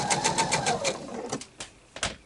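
A sewing machine stitches quilt fabric in a slow run of rapid needle pulses, slowing into a few separate spaced thumps before stopping.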